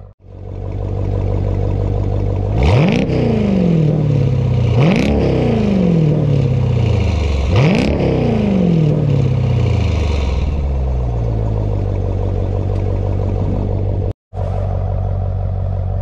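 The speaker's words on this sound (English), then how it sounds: "I'll give it a couple revs so you can see what it sounds like when you really pound it." A 2017 Jeep SRT8 fitted with a GTHaus exhaust and JLT cold air intake revs three times in quick succession, each loud blip rising and falling back to a rumbling idle, which then settles and continues steadily.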